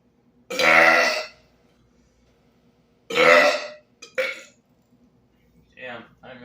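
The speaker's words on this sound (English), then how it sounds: "I'm just burping from nothing at this point" Loud, long burps from a person drinking on an empty stomach: two big drawn-out belches a few seconds apart, followed by a shorter one and a brief softer one, all close and clear with no talk.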